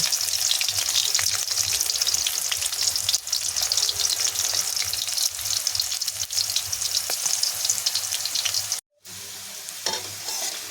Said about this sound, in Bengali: দেখো লাল লাল করে ভেজে নিয়েছি উচ্ছেগুলো